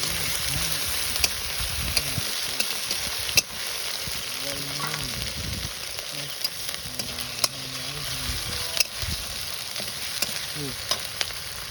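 Onion, ginger and garlic sizzle and fry steadily in a pan in a village kitchen, a loud continuous crackle broken by occasional stirring scrapes, with a voice speaking faintly underneath.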